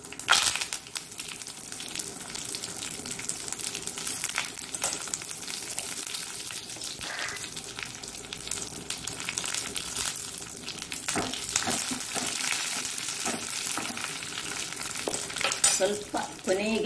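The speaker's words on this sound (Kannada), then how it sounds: "ಈಗ ನೋಡಿ ಅದಕ್ಕೆ ಜಜ್ಜಿಟ್ಟ ಬೆಳ್ಳುಳ್ಳಿ ಹಾಕ್ತಿದ್ದೇನೆ. ಒಂದು ಮೆಣಸನ್ನು ಕಟ್ ಮಾಡಿ ಹಾಕ್ತಿದ್ದೇನೆ." Crushed garlic, cut green chilli and curry leaves crackle and sizzle steadily in hot oil as a tempering for Mangalore-style tender jackfruit sambar, a dense, continuous frying hiss close up with no talking.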